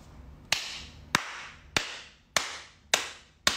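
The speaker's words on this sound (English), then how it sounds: "I'm clapping for you." Hands clap six times in a slow, even rhythm, each clap sharp and close with a short room ring, and no talking between them.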